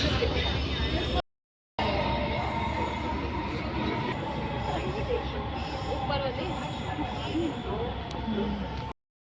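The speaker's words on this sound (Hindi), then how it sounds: "ये मेरी मेट्रो जा रही है" A Delhi Metro train rumbles and pulls away from a station with a steady broadband roar and faint wheel squeal, loud and close, with a brief dropout early on.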